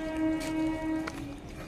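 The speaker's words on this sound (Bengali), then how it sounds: "আসছে ট্রেন," Kharagpur local train arriving at a station, its horn sounding in several long, loud blasts over rumbling rail noise.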